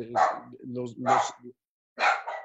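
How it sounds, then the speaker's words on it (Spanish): A dog barks during a live-streamed talk, giving three loud, close barks in quick bursts with a short pause before the last. "¿alguien puede callar ese perro, por favor?"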